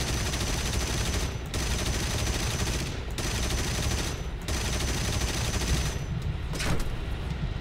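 Aircraft machine guns rattle in War Thunder during an IL-2 Sturmovik escort, with long bursts over a constant engine roar, broken by brief gaps.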